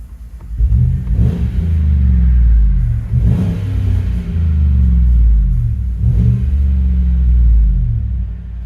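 A 2015 Chevy Tahoe 5.3L V8 with a muffler delete revs repeatedly, its deep exhaust rumble swelling and falling in several close, loud bursts with no talking.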